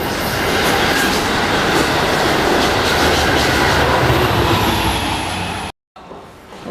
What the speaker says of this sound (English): you get to see a train pass by